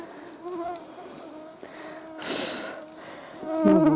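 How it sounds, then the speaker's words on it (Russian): Mosquitoes flying in a forest during a summer blueberry-picking walk, a thin high buzzing whine drifting close and away in faint swells, with a voice heard briefly. "Комары вон летают."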